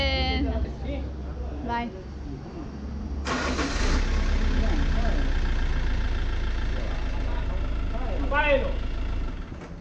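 A FIAT Ducato van engine starts up at a mechanic's shop and settles into a steady idle in neutral, with people talking over the engine noise.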